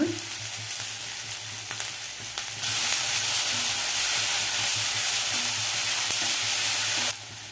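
Green chillies frying in a pan with onion for avalakki chitranna: a close, steady sizzle that swells into a louder, fuller hiss midway and then drops back, with a few light utensil taps.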